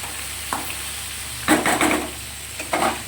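Chopped onion frying in oil in a pan at home, with a steady hiss under several louder bursts of sizzling and stirring.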